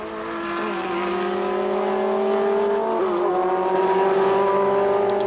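A historic Ferrari race car drives by with a loud, steady engine note that climbs in pitch, dips briefly around the midpoint, then keeps pulling hard, close and continuous throughout.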